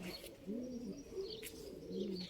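Pigeons from a flight flock coo on a rooftop in the early morning, soft repeated cooing calls up close with a few faint chirps and no talking.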